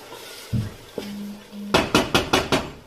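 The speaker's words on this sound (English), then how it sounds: "We're just going to stir to make sure it's not burning." A spoon knocks and scrapes against a pot of frying Nigerian chicken stew, first a few scattered taps, then a quick run of five sharp metallic clanks close by, with no talking.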